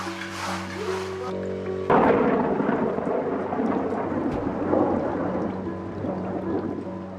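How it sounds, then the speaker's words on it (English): Rain pours steadily onto a Roman bath reconstruction building site, a dense hiss of drops that grows fuller partway through, with a low rumble of thunder underneath. "Rain not only slows down Teoman's schedule, it also soaks an already wet building"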